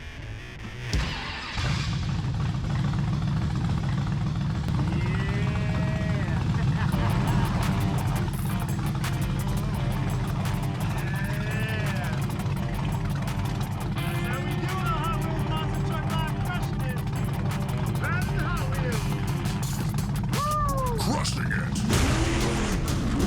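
A big engine rumbles and revs close by for a long stretch, deep and throaty, with people talking over it.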